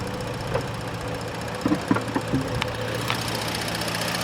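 2017 Ford Explorer Police Interceptor engine idling, a steady low mechanical hum with a few faint clicks and knocks, moderately close and without talk.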